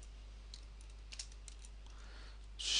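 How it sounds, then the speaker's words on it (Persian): Keys tapped on a computer keyboard while a marker comment is typed in Final Cut Pro 7: sparse, quiet clicks at an uneven pace with no talking, ending in a slightly louder rustle. "ببخشید که خیلی طولانی شد این تایپ من."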